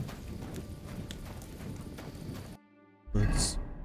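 Horse hooves clip-clop steadily in the video game Kingdom Come Deliverance 2 under faint voice and ambience, then cut out briefly before a louder burst of sound.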